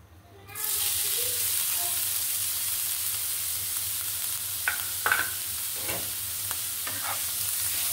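Grated carrot hits a hot pan and breaks into a loud, constant sizzle, with several scraping stirs and utensil knocks over the frying near the end.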